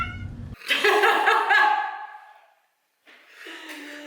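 A cat meows loudly with a drawn-out, wavering call lasting about two seconds, followed by a brief silence and then a second, shorter meow close to the microphone.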